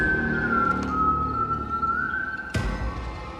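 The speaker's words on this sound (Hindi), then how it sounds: "उसे फिर वही सीटी की आवाज सुनाई दी" An eerie, thin whistle in a haunted-house horror story holds one sustained, slightly wavering tone for over two seconds, then breaks off into a sudden sharp impact.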